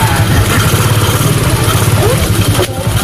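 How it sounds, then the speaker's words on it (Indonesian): A three-wheeled touring motorcycle idles close by with a loud, steady, low engine rumble that holds even throughout, ending in a brief clattery burst. "Safia beraksi dengan sepeda motor roda 3, biasa dipakai touring orang-orang dewasa"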